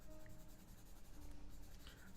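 Pencil strokes rubbing on paper as quick braids are sketched in a live caricature, a soft continuous scratchy scribble running throughout at low volume.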